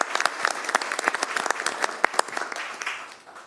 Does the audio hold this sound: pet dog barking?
no